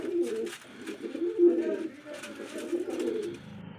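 Pigeons coo repeatedly nearby in low, throaty murmurs, several birds overlapping continuously with some faint rustling in the background.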